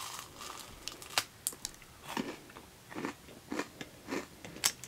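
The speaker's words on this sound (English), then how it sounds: "Am I ready to eat a rock hard Rice Krispie Square?" Teeth biting and crunching through a rock-hard Rice Krispie square; close, dry crackling crunches repeating irregularly, quiet between bites, no talk.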